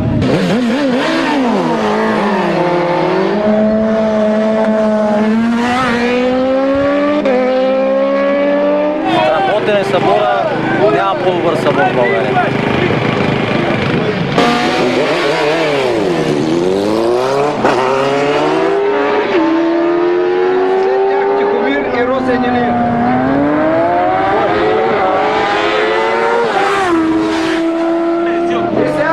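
Motorcycle engines roar continuously at a 2008 motorcycle rally in Veliko Tarnovo, Bulgaria, loud and close, with repeated revving that rises and falls under a person talking.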